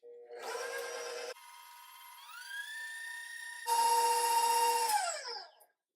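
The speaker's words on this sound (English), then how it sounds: "Now we're just going to blend all of this together before we add in our egg." A kitchen mixer blends sweet potato cheesecake batter with heavy whipping cream, whining in bursts whose pitch steps up and down, then winds down and stops.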